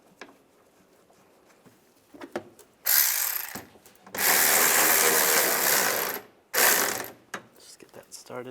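A ratchet tightens a hood hinge bolt on a 2007-2013 Chevrolet Silverado 1500, with loud, close bursts of rapid clicking, a short one followed by a longer run and another short burst, separated by quiet pauses and faint handling knocks.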